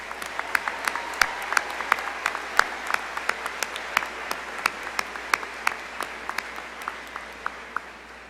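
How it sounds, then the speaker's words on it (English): Applause for music graduates at the 2017 Hastings College commencement, a large crowd clapping at a steady, even rate with a few louder individual claps standing out, sustained throughout at moderate distance. "one more round of applause for our music graduates"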